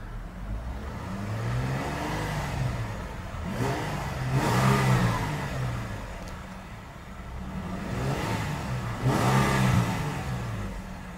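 A parked 2016 Jeep Wrangler Unlimited Sahara engine revs repeatedly, rising and falling in three distinct surges with a steady idle between them.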